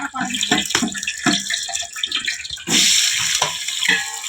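Green chillies are washed under a running tap, with water splashing and hissing into a sink and a louder steady gush in the second half.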